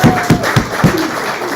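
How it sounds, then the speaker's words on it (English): Audience applause at a stand-up comedy class showcase: a short burst of scattered clapping, a few distinct claps close together before fading into room noise. "So you should applaud for her."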